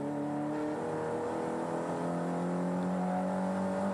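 Glenn Seton's turbocharged Nissan touring car at the 1987 James Hardie 1000 on a wet track, a continuous strong engine drone holding steady then climbing in pitch as it accelerates, heard from onboard.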